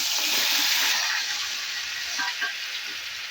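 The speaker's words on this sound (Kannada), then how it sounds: "ಹಾಗೆ ಇಲ್ಲಿ ಟೊಮೊಟೊ ಕಾಯಿನ ಇದರಲ್ಲಿ ಫ್ರೈ ಮಾಡ್ಕೊಳ್ಳೋಣ" Tomatoes fry in a few teaspoons of oil in a kadai, giving a steady, close, hissing sizzle with occasional soft bubbling pops and no talking.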